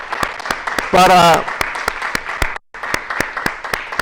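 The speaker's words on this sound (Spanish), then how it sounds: "Por favor, una ofrenda de palmas" A church congregation applauds, with sharp, rhythmic hand claps running through the whole stretch, close and fairly loud, as a voice speaks briefly over them partway through.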